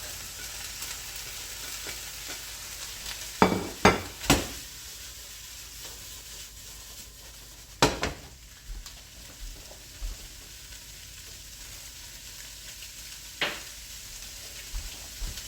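Kimchi fried rice sizzles and fries steadily in a big wok, with several sharp scraping stir strokes clustered early and a few more later, all fairly close and without speech.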